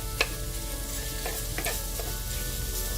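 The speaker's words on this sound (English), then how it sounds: "break it up with your spoon" Seasoned ground pork sizzling in a pan while a spoon mashes and breaks it up, with steady frying hiss and a few soft scraping taps of the spoon against the pan.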